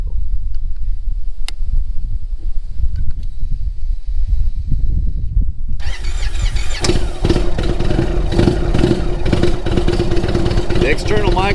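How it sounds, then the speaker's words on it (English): A 2016 Indian Springfield motorcycle engine rumbles steadily while riding, close to the microphone, first a deep low throb and then louder with rushing wind noise as speed builds. "riding a 2016 Indian Springfield motorcycle"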